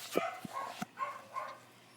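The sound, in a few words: dogs barking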